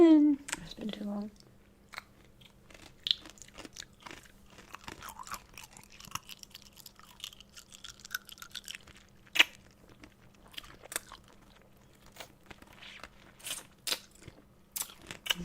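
Gum is chewed close to the mic in a quiet room, with sharp intermittent crunches and wet smacks at an uneven rhythm, along with a low steady hum.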